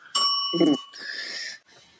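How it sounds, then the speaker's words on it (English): A single bright bell ding rings out clearly, followed by a brief voice and a fading ringing tone. "You're getting the bell, Mitch, you bitch."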